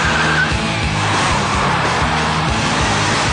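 A loud, continuous roaring petrol engine at high revs from an ABT-tuned Audi, harsh and steady throughout with no talking.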